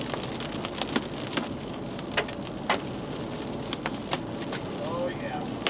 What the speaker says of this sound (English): Uh-oh, that's hail.